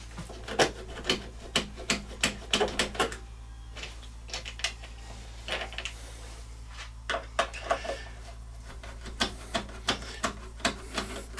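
Two screws are turned out of the lid of an HMV Stereomaster 2400 stereogram, giving close, repeated squeaky creaks and scraping clicks in short rhythmic bursts with brief pauses between.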